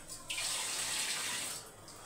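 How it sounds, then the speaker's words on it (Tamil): A kitchen tap runs water into a bowl in a short steady burst of about a second and a half, close and clear, with no talking. "ஒரு கிண்ணம் எடுத்து முதல்ல செடிக்கு தண்ணி எடுத்து வச்சிடணும்ல"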